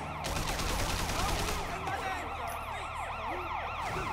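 A police car siren wails in the Triad Wars video game, its rising and falling tone loud and continuous throughout, layered over deep engine rumble and other game noise.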